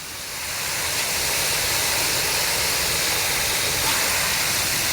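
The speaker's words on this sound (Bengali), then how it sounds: "দেখুন কিভাবে জল বেরিয়ে যাচ্ছে" Water pours into a geo fabric grow bag and drains out, making a loud continuous rushing hiss that swells in and holds steady.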